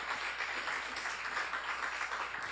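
A church congregation at a sermon seminar gives a dense, continuous round of applause that stays even and full throughout.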